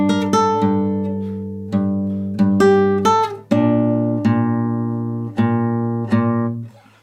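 Plucked acoustic guitar notes from a video game main theme ring out one at a time and are left to sustain, forming a slow, spacious melody with no voices.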